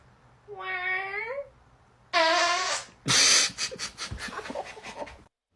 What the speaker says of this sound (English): Guess my fart.